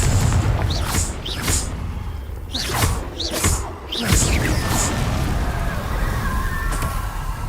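Confringo blasting-spell explosions from Hogwarts Legacy sound as several sharp booming bursts with whooshes in quick succession over a dense game-sound bed, followed by a steady rumbling wash.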